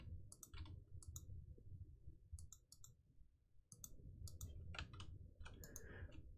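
Quiet, crisp clicks in uneven clusters, close and faint over a low background rumble.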